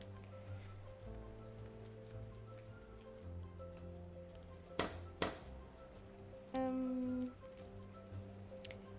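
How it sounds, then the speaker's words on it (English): Steady soft rain patter in the farming adventure game Summer in Mara, running continuously under low looping game music, with a couple of sharp clicks and a short tonal chime partway through. "it's raining"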